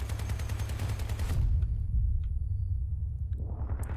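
Heavy cannon fire in the vehicle combat game Crossout, a dense rumbling barrage of booming shots that cuts off abruptly, then resumes after a brief near-silent gap, loud and without talk.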